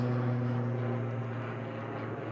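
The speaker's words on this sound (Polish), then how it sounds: "Samolot, który leci do ligowca." An airplane passes overhead while descending toward an airport near a railway line, a loud, steady low drone with a strong engine hum that slowly fades slightly over a couple of seconds.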